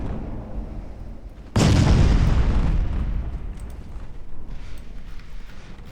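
Naval guns fire in a warship battle in Ultimate Admiral Dreadnoughts, with one loud booming blast that rolls into a long fading rumble over quieter background battle noise.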